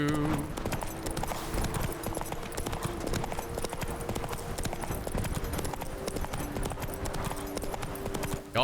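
Horse hooves clip-clopping at a steady trotting rhythm in the video game The Witcher 3, continuous and fairly close, with game music tones and faint talk underneath.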